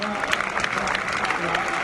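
A big crowd at the 2010 USA Track & Field Championships cheering Galen Rupp home at the 10K finish, dense continuous applause and cheering with a commentator's voice over it.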